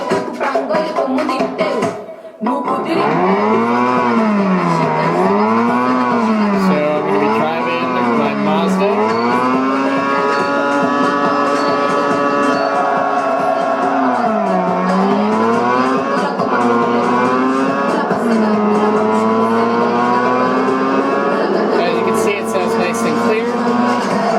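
A loud, continuous video game racing car engine whines through a Bluetooth speaker, its pitch swooping up and down as it revs, then settling into a sustained high drone.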